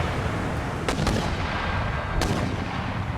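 Artillery fire in Empire Total War, a couple of sharp booming reports rising over a steady roar of battlefield noise, heard alone without voices.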